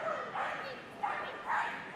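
An excited small dog yips and barks at a Crufts agility competition, a few short high cries over roughly two seconds beneath crowd and commentator chatter.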